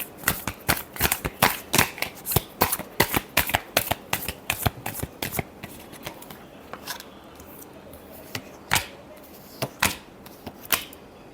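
Tarot cards are shuffled by hand, giving crisp, rapid slapping bursts close up. A pause follows, then a few sparser snaps.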